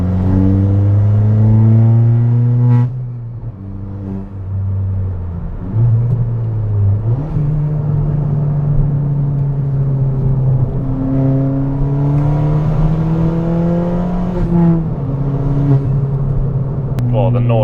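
A straight-piped Ford Fiesta ST is driven hard, its engine droning loudly through rising and falling revs and gear changes as the car accelerates, heard close from inside the cabin.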